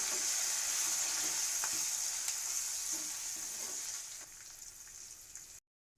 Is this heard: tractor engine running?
no